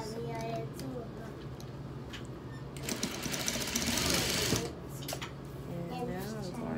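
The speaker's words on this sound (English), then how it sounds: "you're just going to make a straight stitch now" A sewing machine runs a straight stitch along a shirt sleeve, its fast, even mechanical chatter swelling louder midway, while a person talks over it.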